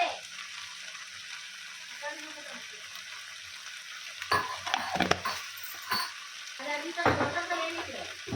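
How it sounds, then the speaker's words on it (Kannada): Food frying in a pan with turmeric added, a steady sizzling bed broken by louder scraping and stirring bursts in the second half, close and clear with no talk. "ಹಾಗಾಗಿ ನಾನು ಫ್ರೈ ಮಾಡ್ತಾಯಿದ್ದೀನಿ"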